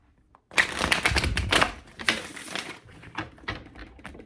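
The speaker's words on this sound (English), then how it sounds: "A good shuffle." A deck of tarot cards gets a quick shuffle, with a sudden burst of dense, crisp riffling and patter followed by a few softer, scattered flicks as the cards settle.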